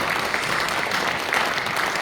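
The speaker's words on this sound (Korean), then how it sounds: "박수 부탁드리겠습니다" Loud, dense applause from the crowd at a March 1st Independence Movement anniversary ceremony, a continuous wash of clapping with no pauses.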